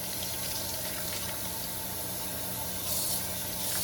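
Running tap water pours steadily over fresh garden vegetables being washed in a sink, a constant close hiss and splash that swells slightly louder near the end, with no voices.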